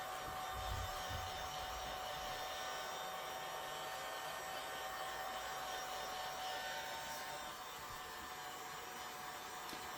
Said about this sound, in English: Because I'm impatient, I'm going to just hold my heat gun.